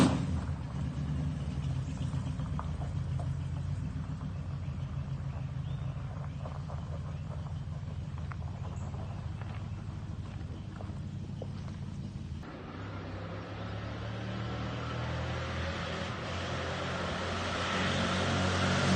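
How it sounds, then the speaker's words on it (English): Engine of a homemade truck called the Tater Truck, fitted with a cam and just revived after two years, runs steadily on a test drive, a continuous low rumble with a slight rise near the end. "Tater Truck's running, so now we're on our maiden voyage to go test it out"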